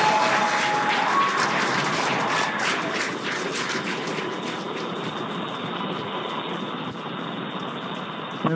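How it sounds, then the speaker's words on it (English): A crowd applauds and cheers loudly in a continuous burst for the first commercial spacewalk by SpaceX astronauts, the clapping strongest at the start and slowly easing while a faint steady hum runs underneath. "I have a feeling the crowd is about to go wild."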